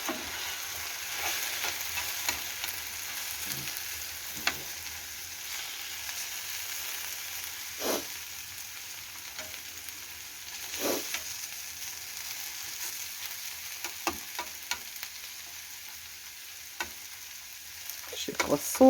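Steady sizzle of mushrooms and carrots frying in a pan, with occasional scrapes and clicks of stirring scattered throughout.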